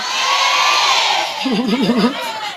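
A crowd at a mosque inauguration and 80th Independence Day gathering cheers and shouts loudly, a broad roar of voices with a rising wavering whoop near the end.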